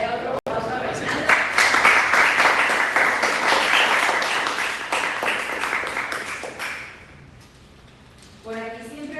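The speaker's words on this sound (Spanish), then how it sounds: "vamos a darle otro aplauso a Reinaldo" Audience applause for speaker Reinaldo Velásquez after a technical talk on containers, a sustained round of clapping lasting several seconds that gradually thins out, followed by a brief spoken voice.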